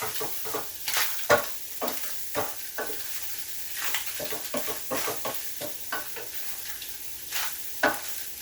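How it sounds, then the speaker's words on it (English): Cubed Spam browns in a hot frying pan, sizzling steadily up close while a utensil stirs and scrapes it in repeated irregular strokes. "the Spam's just about done browning. We'll give it one more stir and see where we're at here."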